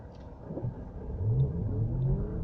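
Mitsubishi Outlander PHEV pulling uphill from a standstill at heavy throttle, a low rumbling whir that swells steadily with a rising tone and no voices.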